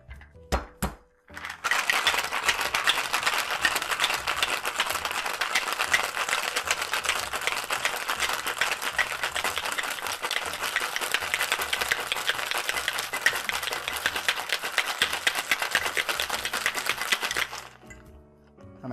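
A cocktail with cream is shaken hard in a new shaker tin, a loud, continuous rattling of ice for about sixteen seconds that stops abruptly near the end.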